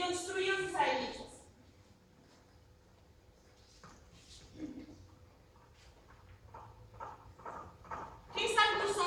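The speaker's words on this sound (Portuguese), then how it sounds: "Cavalo." Horse hooves clip-clop in a rhythmic series of hoof strikes, a recorded sound effect with loud bursts at the start and end and quieter hoof beats in between, played without talk over it.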